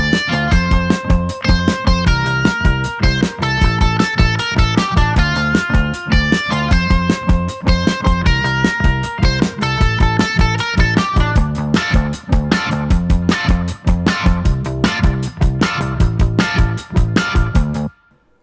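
Recorded lead guitar plays back within a fast, groovy song, loud and dense over a driving beat with steady rhythmic hits and no talking.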